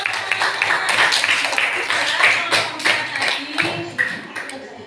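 Scattered clapping from a classroom of students after a group presentation, uneven and a little thin, with murmuring voices mixed in.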